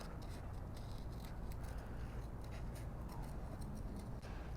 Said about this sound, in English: it makes the fussy cutting even easier than normal